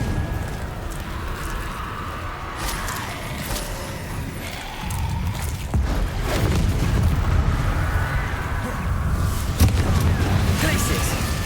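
A Confringo explosive spell from Hogwarts Legacy hits in a dense, rumbling mix of booms and crashes during hectic spellcasting combat, with the low roar thickening in the second half and a shouted voice heard over it.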